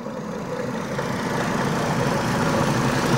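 A car engine with an aftermarket catalytic converter idles steadily and quietly, a low, even hum that grows slightly louder across the clip, with no talking.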